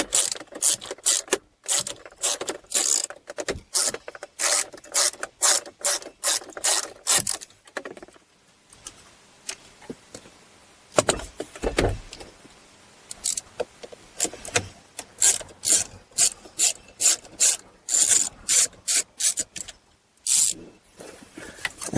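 A hand ratchet backs out T25 Torx screws from the turn signal assembly of a Pontiac Grand Prix: loud, close bursts of rapid clicking repeat in runs, broken by short pauses and a few metallic handling knocks.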